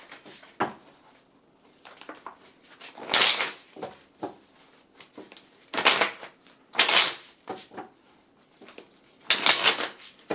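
Tarot cards are shuffled in soft, irregular bursts of riffling and sliding, close and fairly quiet, with short pauses between handfuls.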